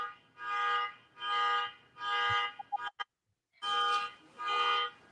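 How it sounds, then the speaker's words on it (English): An alarm sounding indoors in regular repeated loud bursts, five buzzing pulses with a short gap of clicks and silence between the third and fourth. "How long we got an alarm going on?"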